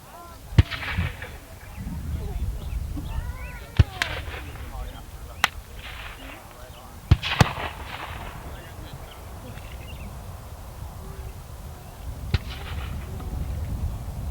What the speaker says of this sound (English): The infantry up here at the fence right there, if you notice every shot, then they have to take the time to reload their weapons.